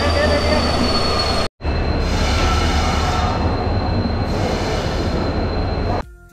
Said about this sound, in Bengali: ওই দেখুন আমাদের ট্রেন সবে ঢুকছে স্টেশনে।